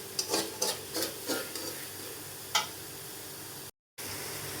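Onions sizzling in a pan with spices for a katla fish curry, a soft steady fry under several close stirring scrapes and clinks, fairly quiet, with a brief dropout near the end and no talk.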